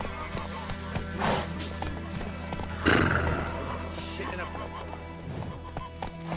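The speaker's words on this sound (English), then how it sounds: "Come on, Roach" Hooves of a galloping horse clip-clop in The Witcher 3 video game, a steady rhythmic beat running beneath a voice and in-game dialogue, with a louder swell partway through.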